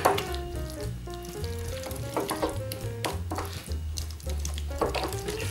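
Crushed garlic is stirred into olive oil in a pan, with a continuous soft sizzle and scraping mixed with a background musical tone and occasional utensil knocks. There is no talking.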